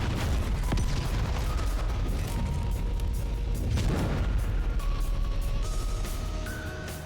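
Weapons fire at mechs in the strategy game Heart of the Machine, a dense, continuous barrage of booms and gunfire bursts with electronic tones layered on top, loud and relentless throughout before easing slightly at the end.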